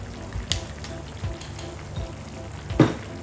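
A green chili vegetable dish frying in a pan is stirred, a steady sizzle running under soft scrapes and occasional clinks of the utensil against the pan.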